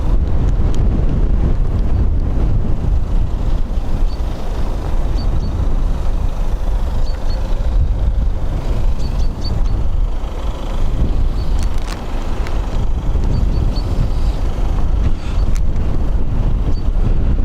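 Strong gusting wind buffets an outdoor microphone at Dublin Airport, a loud continuous low roar with surges and rumble throughout, no talk.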